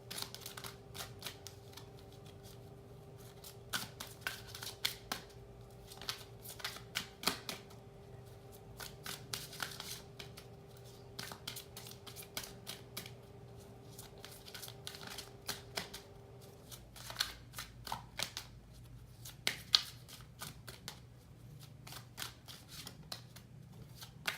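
Tarot cards are shuffled in repeated crisp riffles and taps, close and quiet, in irregular bursts over a faint steady hum.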